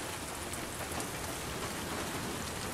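Rain in the video game The Last of Us Part II, a dense, even hiss of heavy rainfall pattering on surfaces, steady and close without any voices.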